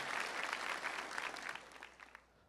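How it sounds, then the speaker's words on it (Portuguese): Applause from a church audience for a priest, dense clapping that carries on steadily and then fades out toward the end. "Salve de palmas, então, para esse nosso São João Maria Vianney"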